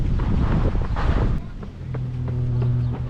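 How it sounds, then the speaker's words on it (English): Gusty wind buffets the microphone during an outdoor run, with low rumbling roar, then eases into a steadier hum with a faint tonal drone. "it's a bit windy today"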